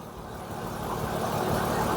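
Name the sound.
Toyota Sienna AC compressor running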